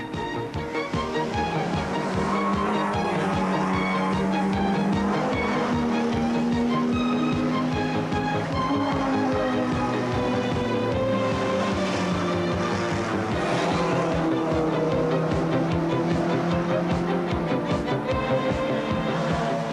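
Production saloon cars, including a Ford Capri and a Mercedes-Benz 190E, race at Phoenix Park in 1986, their engines droning steadily and loudly throughout, with passing revs swelling and fading.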